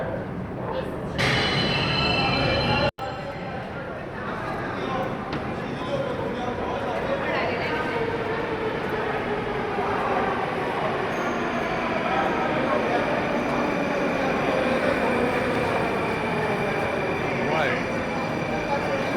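A Moscow metro train rumbles steadily with a broad, loud roar and rising whine of the motors as it moves, continuous throughout, with a brief sharp click early on.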